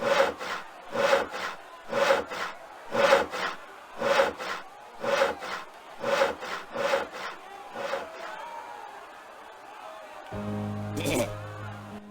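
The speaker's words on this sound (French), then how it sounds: "La seule scie que j'ai vue est celle avec laquelle je scie" A hand saw cuts through wood in the adventure game Torin's Passage with eight or so even, rhythmic back-and-forth strokes, loud and close. The strokes then stop and give way to a brief different rumble and clatter.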